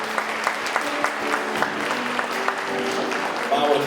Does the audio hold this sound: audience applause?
yes